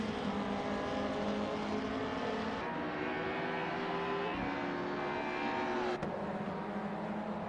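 Race cars roar continuously in a BTCC racing simulator game at Zandvoort, with engines whining through gear shifts and rising and falling in pitch as they pass.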